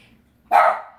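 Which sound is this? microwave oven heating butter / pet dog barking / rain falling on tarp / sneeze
pet dog barking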